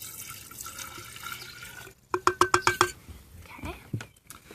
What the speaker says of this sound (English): now what I'm going to do is pour that into my glass jar